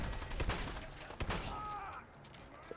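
An automated turret in Fallout 4 fires on enemies: rapid bursts of gunfire crackle at a moderate distance over a constant game background rumble, with a few sharper shots standing out.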